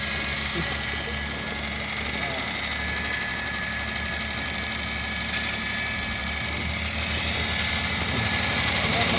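A steady engine idles with a constant low rumble and hum, running evenly throughout with faint voices in the background.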